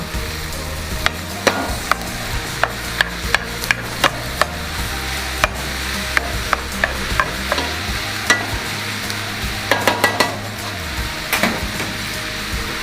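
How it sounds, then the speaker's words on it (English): Ground chuck sizzles loudly in a hot pan while a spatula stirs it, giving sharp scrapes and clicks at irregular intervals over a constant frying hiss, with no talking. "we're going to add our ground chuck. Make sure it gets all in the pan."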